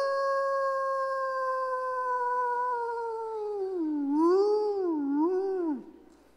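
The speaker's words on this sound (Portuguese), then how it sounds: "Um uivo, não era isso?" A single long werewolf howl rises and holds as a steady, loud, drawn-out tone, then wavers up and down near the end before cutting off, heard alone and close.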